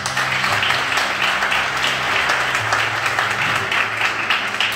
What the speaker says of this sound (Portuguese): Aplaude o Rei Jesus